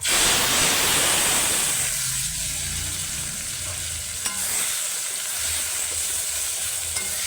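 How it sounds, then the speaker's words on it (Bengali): Loud, steady sizzling of onion, garlic and ginger paste frying in a wok, with scraping stirs throughout and no talking. "বাটা মশলাটা ভালো করে ভেজে নিলাম"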